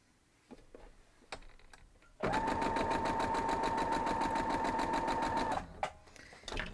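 A sewing machine stitches quilt block pieces in one steady, loud run of rapid even stitching lasting about three seconds, with quiet handling clicks before and after.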